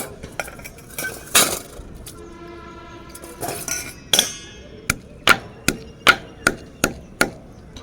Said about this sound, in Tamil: அப்படியே இந்த குழவியில் போட்டு நச்சிட்றேன்